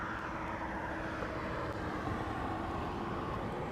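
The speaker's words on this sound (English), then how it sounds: "747 Boeing converted freighter." A four-engine Boeing 747, an ex-passenger jet converted into a freighter, lining up at Anchorage airport, its steady jet-engine roar and broad rumble holding evenly throughout, loud and continuous.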